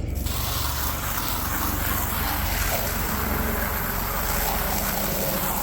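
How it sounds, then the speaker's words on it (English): Steady water spray rinses soap off a Nissan SE-R trunk mat pulled from a junkyard, a continuous loud hiss that holds evenly throughout with no talking. "we're gonna go ahead and rinse this guy off"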